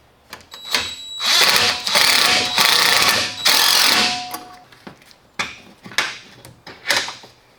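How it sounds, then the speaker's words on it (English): Bolt, washer and nut being tightened down onto a grommet during an intake install, heard as close, repeated ratcheting and clicking bursts with short pauses between strokes. "put this bolt, washer, and nut in. I'm gonna tighten that down on the grommet"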